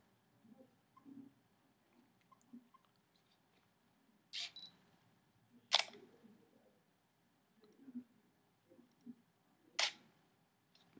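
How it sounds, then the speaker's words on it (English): A Canon T4i DSLR fires its shutter at a slow speed, a few faint mechanical clicks spaced apart as it opens and later closes. Soft room noise and small handling sounds come in between. "You see how long that took for the shutter to open and close?"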